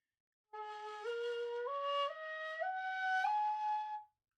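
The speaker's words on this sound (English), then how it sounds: "doyo mode sounds like this when you drop it down to the bottom of the flute as well" A shakuhachi flute climbs the doyo mode scale from the bottom of the instrument, one breathy held note after another in a smooth ascending line, close and solo in a quiet room.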